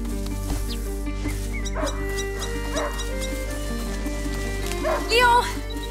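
A hunting dog in the video game A Plague Tale: Innocence barks and yips a few times in short bursts, fairly close, over a steady low hum and soft background game sounds.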